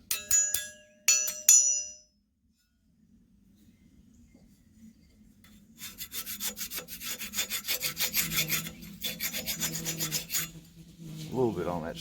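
A lawn mower blade is sharpened by hand with a file: two bursts of sharp metallic scraping, a quiet pause, then a long run of steady rhythmic rasping strokes, close and moderately loud with no talk.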